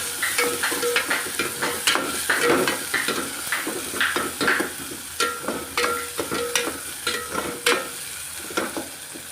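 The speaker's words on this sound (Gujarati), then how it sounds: "તો મસાલાને બરોબર આપણે પાકવા દઈએ તેલમાં" Onion and tomato masala cooks in oil in a pan, a constant sizzle overlaid by rhythmic scraping and clinking strokes of a spoon stirring it, close and fairly loud.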